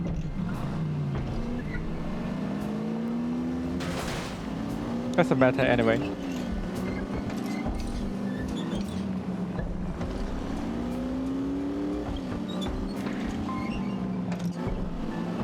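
A car drives through The Saboteur game world, its engine a steady drone with repeated rising and falling pitch swells as it shifts through gears. A voice talks over it briefly and a short burst of clatter cuts in partway through.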